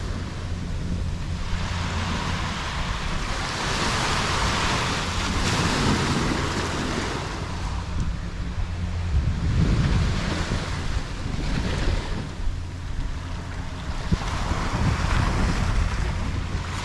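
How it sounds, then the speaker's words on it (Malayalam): Sea waves surge high up the shore at Vadanappally Beach in Kerala, a loud wash that swells and recedes in repeated surges while strong wind roars across the microphone. No one speaks. "ഇങ്ങനെ വെള്ളം അടിക്കുകയാണെന്നുണ്ടെങ്കിൽ, വെള്ളം അടിച്ച് കയറുകയാണെങ്കിൽ എങ്ങനെയാ താമസിക്കാൻ പറ്റുക?"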